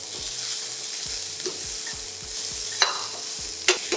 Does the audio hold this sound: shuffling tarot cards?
no